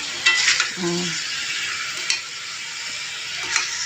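About two kilograms of marinated chicken frying in a pan at home while being stirred, giving a steady loud sizzle with a few scraping clinks of the spoon against the pan.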